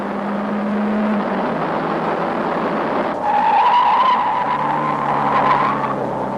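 A race car skids hard at Forest Elbow on a road-racing circuit, a loud, sustained tire squeal and scrubbing rising sharply midway over the rough drone of the engine, close and continuous with no talk.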